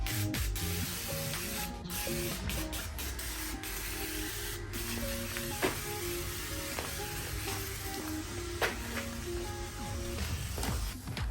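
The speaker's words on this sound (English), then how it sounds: "I'm gonna spray this entire thing down with PB Blast." PB Blast penetrating oil sprayed over a rusty, rotted engine in long, loud hissing bursts with short gaps, close up, with clinks and knocks of metal handling between sprays and no talking.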